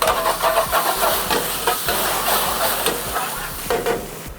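Vegetables including cabbage and tomato sizzle loudly in a hot pan while a spoon stirs them in quick repeated scraping strokes, with steamy hissing throughout.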